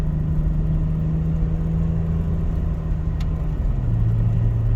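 A 1990 Dodge Grand Caravan LE engine runs steadily near the microphone, giving off a constant low rumble and whir with no break, and it eases to a slightly different pitch toward the end.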